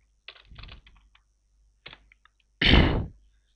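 Computer keyboard typing during an HTML lesson, a few quick clustered bursts of key taps followed by a louder, longer clatter near the end, with no talking.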